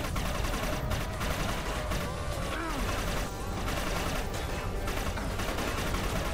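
Rapid gunfire from a weapon in a multiplayer video game set on a boat over lava, a dense continuous rattle of shots with metallic impacts and game effects, loud and sustained throughout.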